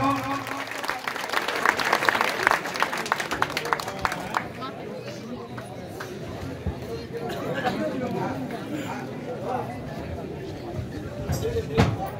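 Audience clapping at a live kirtan program in Kharmunda, steady rhythmic applause with louder bursts early on, mixed with crowd murmur.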